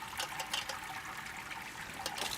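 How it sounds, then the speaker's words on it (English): Beer wort draining through the grain bed during brewing of an American amber ale, a steady, soft liquid trickle and dribble that continues without pause, with no voices. "So all the wort is now draining through the grains."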